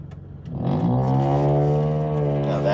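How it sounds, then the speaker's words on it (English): A loud car exhaust with a fart-can muffler, its engine note rising into a sustained, droning rev with a buzzy harmonic tone, close and alone. "Jesus Christ, imagine if your car sounded like that."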